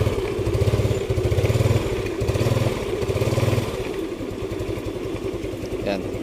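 A motorcycle engine, checked for hard starting, fires up and runs with a rough, pulsing close idle that comes in throbbing bursts, while someone talks over it.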